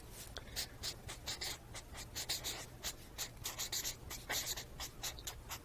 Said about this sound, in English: I'm going to write this over here